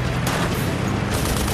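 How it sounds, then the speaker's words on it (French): A burst of .50 caliber machine gun fire rips into a Messerschmitt Me-109 in wartime air combat, a loud dense rattling fusillade that fills the whole short moment without pause. "Les balles de calibre 50 lacèrent le ME-109."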